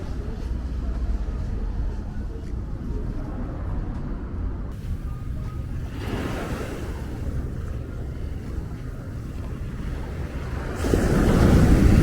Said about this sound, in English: we're at the beach, but I'm not sure how well you can hear me because the waves are a bit aggressive